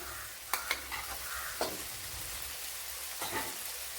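Scrambled eggs fry and get stirred in a pan, with a steady soft sizzle under a few sharp scraping strokes of the utensil and no talking.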